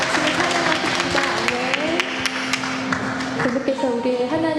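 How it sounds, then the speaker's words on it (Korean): Church congregation claps together during a Korean Sunday worship service, dense rhythmic applause blended with sustained music and singing, loud and close throughout. "우리를 깨끗게 하시는 놀라우신 예수님을 함께 박수로"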